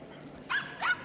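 A Shetland sheepdog at an agility show gives two short, sharp yips about a third of a second apart, clear over a low background hum.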